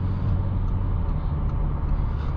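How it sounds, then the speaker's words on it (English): A 2022 Audi S4 Premium Plus on a cold-engine morning drive, its exhaust a steady, low droning rumble blended with road noise inside the cabin, continuous and even throughout. "it sounds more defined when the exhaust is cold"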